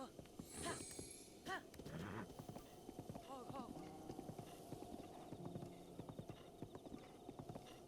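Horse hooves clip-clop at a steady trot in The Legend of Zelda: Breath of the Wild, with a whinny near the start and someone talking over the rhythmic footfalls.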